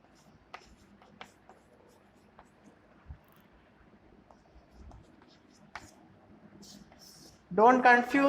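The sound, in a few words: writing during a lecture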